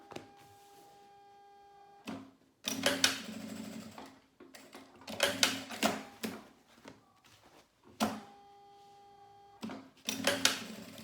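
A sewing machine runs in several short bursts to reinforce the start and end of a seam on a manicure pouch. The needle chatters rapidly and loudly, with quiet pauses between passes.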